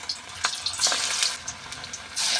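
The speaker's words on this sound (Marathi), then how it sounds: "मी आता यांना तळून घेऊ" Hot oil crackles and hisses steadily as Manchurian balls are deep-fried, with bursts of bubbling spatter rising and falling, close up, no talking.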